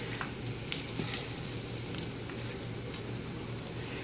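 A potato, mozzarella and olive mixture gets stirred in a pan, giving a faint, steady sizzle with soft scraping and a few light ticks of the utensil.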